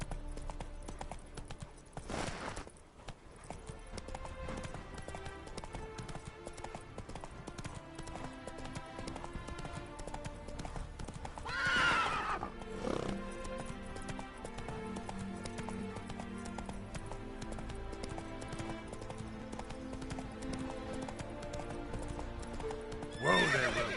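Roach the horse in The Witcher 3 trots with a steady clip-clop of hooves throughout. Loud neighs and whinnies break in near the start, around the middle and again at the end.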